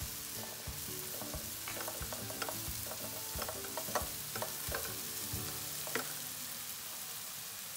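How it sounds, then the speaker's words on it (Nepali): Chopped green chilli frying with onion, turmeric and garlic in a pan gives a constant sizzle, with frequent sharp scrapes and knocks of a stirring spoon, close and moderately loud. "म यसमा खुर्सानी हाल्दैछु चप गरेको"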